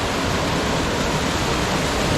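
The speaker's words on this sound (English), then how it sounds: "Upper Whitewater Falls" Upper Whitewater Falls roars as a steady, dense wash of falling water, loud and unbroken throughout with no voices.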